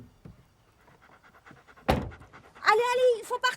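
Dog panting in quick, soft, rhythmic breaths close by, with a sharp clatter partway through, followed by a person speaking over the sound.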